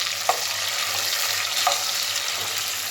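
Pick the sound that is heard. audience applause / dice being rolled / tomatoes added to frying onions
tomatoes added to frying onions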